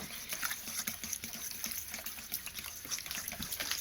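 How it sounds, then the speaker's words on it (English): Sourdough ingredients being whisked together with a fork or whisk, giving a quick, steady run of wet clicking and sloshing strokes close by, with no talking. "grab a fork or a whisk, and you're going to whisk it together"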